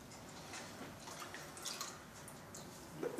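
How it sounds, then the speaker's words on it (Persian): Water being poured into an orchid pot, a soft continuous trickle and splash at close range, gently rising in level toward the end, with no one talking. "ببینید پر میکنیم با آب"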